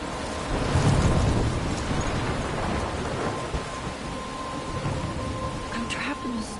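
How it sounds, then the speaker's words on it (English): Thunderstorm in the video game Life is Strange, with heavy steady rain pouring and low rumbling thunder rolling underneath, loud and continuous throughout. "I'm trapped in a storm?"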